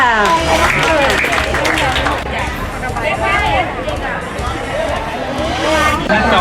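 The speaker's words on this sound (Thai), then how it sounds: "อ่ะปรบมือหน่อยค่ะ" Audience applause at a Thai public event, a sustained crowd clapping with chatter and a speaking voice mixed through it, fairly loud and steady.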